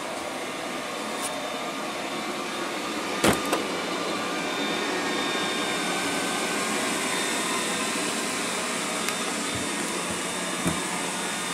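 A Liectroux B6009 robot vacuum cleaner with map navigation runs with a steady, close whirring hum, broken by a few brief clicks and bumps.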